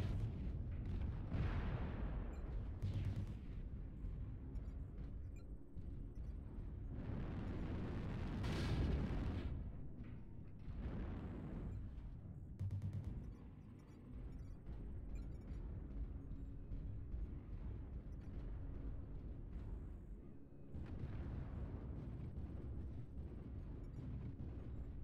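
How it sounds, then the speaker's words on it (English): Artillery strike explosions from the MechWarrior Online video game boom and rumble heavily, several large blasts rolling over one another across a long, dense barrage with deep sustained rumbling between hits. "Artillery strike online."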